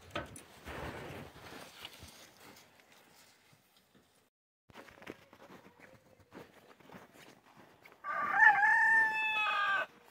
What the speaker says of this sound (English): That's our new little rooster practicing his crow.